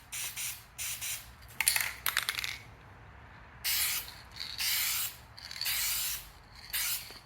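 Duplicolor trim and bumper paint sprays from an aerosol can in a series of short, hissing bursts, nearby and fairly loud, with a brief pause midway before longer passes resume.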